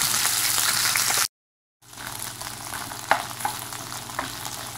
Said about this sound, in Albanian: Edhim bamjet dhe i skuqim